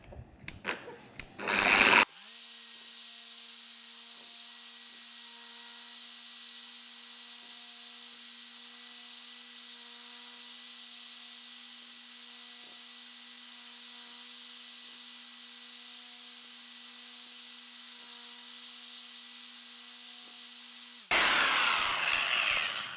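An EVOXA HDF12 mkII polisher runs steadily at low and then higher speed, a smooth continuous whine with hum, bracketed by short bursts of louder handling noise at the start and end.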